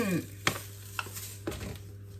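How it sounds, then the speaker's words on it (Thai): Sugar stirred in a Teflon frying pan as it melts, with a steady low hum under a few soft scraping strokes spaced about half a second apart. "เราก็ค่อยๆคนไปเรื่อยๆนะคะ จนกว่าน้ำตาลทรายจะละลาย"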